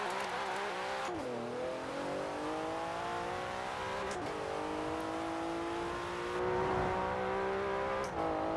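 Porsche 911 with around 700 horsepower driving on dirt in Forza Horizon 4, its engine droning and rising through revs with brief dips at gear shifts, continuous and fairly steady with no voices.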